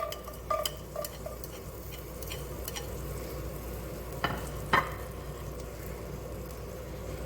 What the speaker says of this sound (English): I'm going to add fresh garlic to the pan.